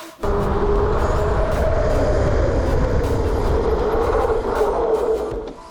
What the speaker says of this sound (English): I'm gonna head down and hit the brakes when I reach about 25 miles per hour